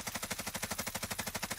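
Rapid machine-gun fire in a Call of Duty video game match, a fast even burst of evenly spaced shots lasting about a second and a half, fairly quiet and with no talk over it.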